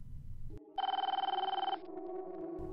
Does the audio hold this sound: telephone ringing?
yes